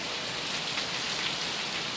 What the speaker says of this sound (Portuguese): Olha aí a chuva. Oh, chuva boa, né, minha gente? Sabadão de chuva.